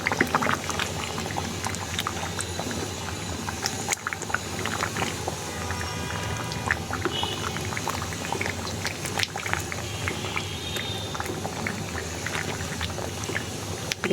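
Olive pickle cooking down in a pan while being stirred, a steady bubbling, spattering simmer with scattered clicks and scrapes running continuously at close range with no talking.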